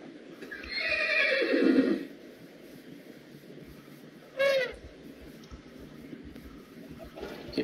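Horse in modded Minecraft giving a loud whinnying neigh near the start, followed by a shorter high squeal a couple of seconds later, over quiet background game ambience.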